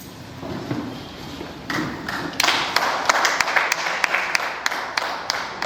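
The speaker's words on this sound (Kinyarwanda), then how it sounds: "Dukomere Imana amashyi." A church congregation claps in praise of God during a service; the applause builds from scattered taps into steady, fairly loud rhythmic clapping in a large room, with sharp individual claps standing out.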